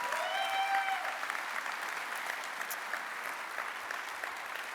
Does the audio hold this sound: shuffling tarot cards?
no